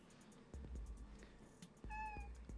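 A house cat near an office desk gives a short, faint meow against a quiet room, with soft thumps nearby and no talking.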